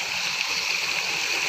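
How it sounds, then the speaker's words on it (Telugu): Loddupalem waterfall roaring as a steady, broadband rush of falling water, constant and fairly loud for the whole short stretch, with no voices over it. "లొద్దిపాలెం జలపాతం."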